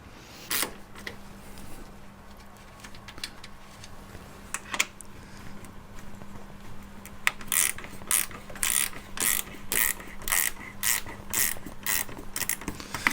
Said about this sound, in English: Here's the ratchet spanner.